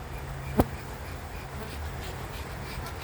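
Honey bees buzzing in the air around a hive, a steady low hum with a faint airy hiss, interrupted by one brief sharp knock near the start.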